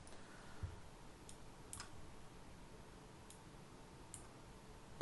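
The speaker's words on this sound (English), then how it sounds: "I'm going to double click in." Computer mouse clicked several times in quick pairs at a desk, crisp faint clicks spaced apart over a low steady room hum.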